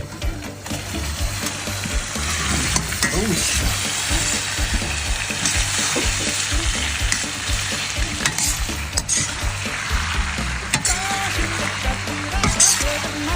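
Mongolian beef with sweet chili sauce is stir-fried in a wok with scallion, ginger and garlic, sizzling constantly while utensils scrape and stir, with occasional louder bursts.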